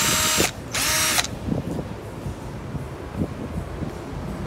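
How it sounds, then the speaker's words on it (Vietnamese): A cheap Ozito cordless drill whirs in two loud, high bursts, the second one longer, followed by quiet handling noise. "này khoan gỗ quan sát và bắn vít, cũng hai cấp độ nhanh chậm"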